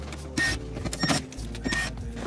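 A screw is backed out of the top dashboard trim of a Lexus IS 250/350 ISF with a short whirring power driver, a few brief bursts close up, along with faint clicks.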